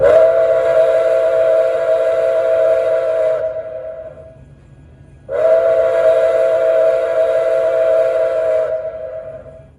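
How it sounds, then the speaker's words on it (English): Two long steam whistle blasts from an MTH model of Nickel Plate Road 765, a 2-8-4 Berkshire locomotive, each a few seconds, loud and close with a short pause between them. "let me show you a quick demonstration of the whistle steam in action."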